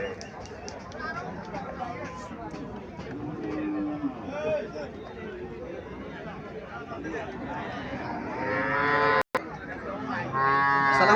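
Local dairy cows at a Bangladeshi cattle market moo loudly and nearby, several drawn-out calls spread through the clip over a background of crowd chatter and nearby talking.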